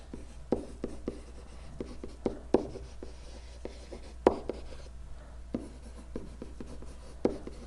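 An equation is written by hand in soft scratchy strokes with a few sharper taps, close and quiet in an irregular rhythm, with no speech.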